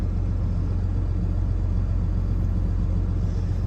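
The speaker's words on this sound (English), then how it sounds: "I've had this truck running for about 20 minutes now" A 2008 Ford F750 truck engine idles steadily close by, a low, even rumble with a constant pulsing throb and no speech.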